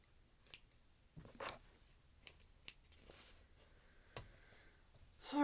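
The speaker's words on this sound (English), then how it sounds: "we'll trim our threads" Scissors snip loose threads on a fabric care mask cover after sewing, giving several sharp, separate clicks spaced across a quiet room, close and moderately loud.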